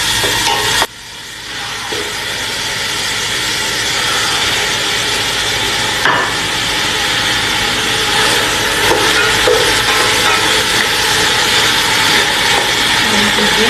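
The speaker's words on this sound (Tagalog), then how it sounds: "Ngayon, igigisa ko ng ang sibuyas ng konting brown at i-add ko na yung chicken" Chopped onion and chicken sautéing in a pan give a loud, continuous close sizzle that starts abruptly and stays even throughout, with no talking over it.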